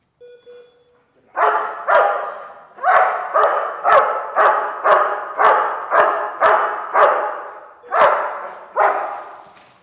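A dog barks loudly and close up during e-collar bark command training, about a dozen sharp barks in a steady, evenly spaced rhythm with brief pauses between them and no talking.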